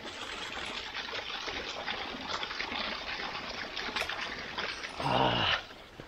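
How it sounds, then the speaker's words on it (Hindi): Water gushes from a broken pipe at a monastery like a small fountain, a steady hissing trickle heard close by, rising to a brief louder splash near the end, with no talking. "ये पानी का पाइप टूटा हुआ है फाउंटेन जैसा लग रहा है"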